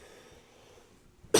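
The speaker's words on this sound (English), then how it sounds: "It's a cough, dude." A single short cough bursts out at the very end after near-silence, close and sharp.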